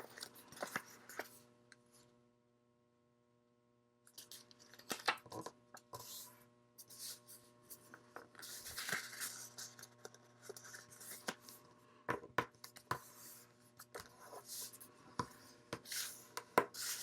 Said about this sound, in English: I'll flip it over and I'll fold this other side